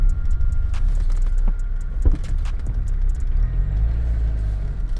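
A diesel four-wheel-drive Lada 2109 driving off-road, a loud low rumble of the engine and drivetrain with rattles and clunks from the body over rough ground.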